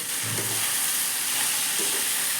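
A spoon stirs potatoes around a hot pan against a steady background of sizzling, with a few soft scraping strokes.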